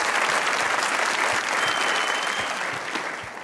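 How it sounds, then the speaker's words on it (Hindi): Audience applause at a Hindi-language show, a dense, steady wash of clapping from a crowd that holds loud throughout and begins to taper slightly near the end. "तालियां बजाएं भाई।"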